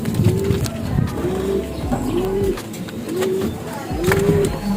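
Pigeons coo repeatedly in a steady rhythm, close by, over a noisy background with faint clatter.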